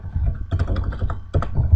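Someone types on a computer keyboard, close and brief, in two short bursts of rapid clicking keystrokes separated by a pause.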